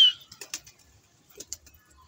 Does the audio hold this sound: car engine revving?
no